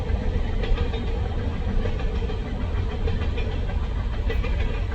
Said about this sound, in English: you know, when you're out here, you can hear the trains,